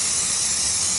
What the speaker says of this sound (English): So I just spray it off with a little bit of brake cleaner.